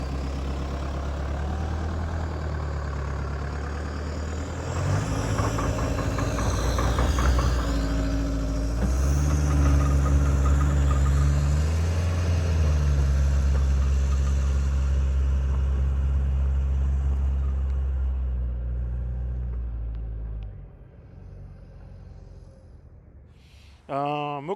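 A Toyota Land Cruiser Prado 150 with a 3.0 turbo diesel engine climbing, giving a deep, steady rumble that swells in the middle, then tapers off and drops away near the end.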